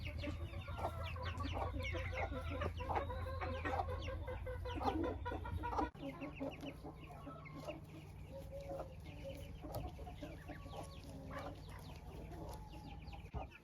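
A hen clucks in a chicken coop amid a steady scatter of soft clucks and calls from other fowl, close and continuous against a low background hum.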